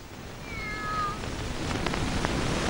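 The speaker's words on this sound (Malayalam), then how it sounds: "ഒന്നുമില്ല, ഒരു പൂച്ച." A cat gives one drawn-out meow with a rising and falling pitch, fairly clear against a steady background hiss, with a few faint clicks afterward in a comedy film scene.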